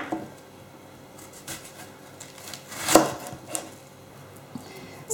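An onion is sliced into rings on a cutting board, with a few knife strokes spaced irregularly against a quiet background. One firm chop stands out in the middle.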